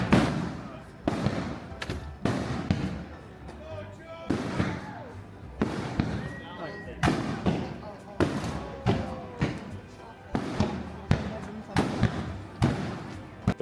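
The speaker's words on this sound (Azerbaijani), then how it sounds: "Məsələ oxşur, fireworks var." Fireworks burst outside a wedding hall in America, a steady series of loud, sharp explosions roughly every second, each booming and then fading, with crackling tails and occasional whistles between them.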